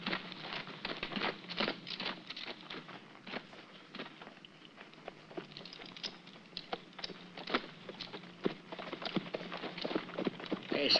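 Horse hooves clip-clop in a steady patter through an adventure film scene set in the desert, with creaks and mechanical rattles mixed in and faint voices underneath throughout.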